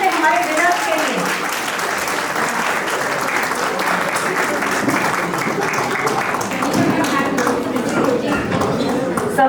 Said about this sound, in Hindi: तालियां बजाइए जल्दी से हमारे winners के लिए।